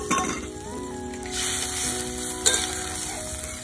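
Water poured into a pan of fried semolina and potato, giving a broad steady sizzle with a sudden louder hiss midway, along with faint clinks from the pan, heard close and with no one talking.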